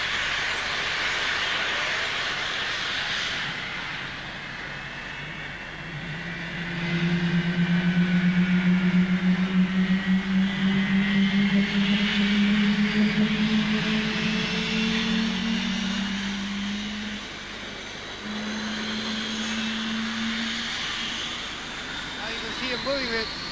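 Hawker Hunter jet aircraft starting up and taxiing out, a steady broadband turbine roar with a whining tone that swells louder midway and holds, fairly close, with faint talk in the background.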